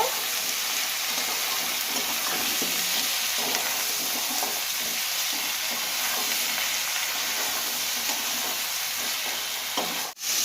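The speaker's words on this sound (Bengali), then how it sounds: "এবার ভালো করে কষিয়ে নেব।" Spices with Kashmiri chili powder sautéing in a pan for bitter gourd and katla fish curry, giving a steady, close sizzle with faint stirring scrapes that runs unbroken to the end, no voices.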